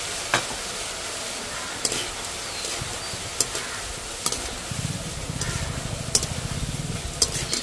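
Small gram-flour boondi drops frying in hot oil, a steady soft sizzle with occasional sharp clicks of a slotted spoon or ladle against the pan, close and quiet with no talking.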